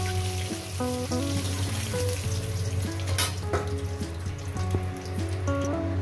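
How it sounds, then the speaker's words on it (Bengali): Pieces of rohu fish fry in hot oil, producing a loud, steady, close sizzle that runs throughout, with tonal music playing underneath. "আর একেবারে বাদ বাকি মাছগুলো একেবারে ভেজে নিয়ে দিচ্ছি"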